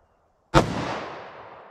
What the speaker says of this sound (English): Let me go single action on this first shot.